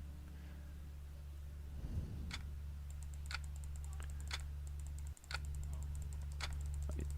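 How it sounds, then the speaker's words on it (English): Rapid mouse clicks during a computer game, sharp ticks scattered irregularly over a steady low electrical hum, fairly close and moderately quiet. "I'm clicking very vigorously."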